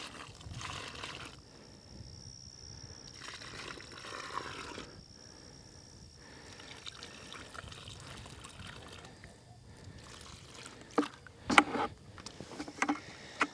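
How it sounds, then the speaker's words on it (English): Organic fertilizer tea is poured into a potted plant in a small garden, a faint soft trickle and splash of liquid that comes and goes over several seconds, with a few brief clinks near the end. "I'm going to water this in."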